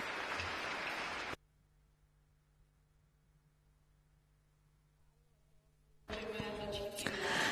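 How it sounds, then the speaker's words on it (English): Bursts of audience applause at a festival opening ceremony honouring organizers and volunteers, loud at the start, then a quiet stretch, then returning strongly near the end. "So this applause is for you, organizers and volunteers."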